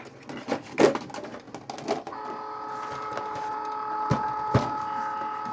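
A Cricut Maker cutting machine powering up, with a few clicks and clunks, then a steady mechanical whir that holds to the end, broken by two brief knocks.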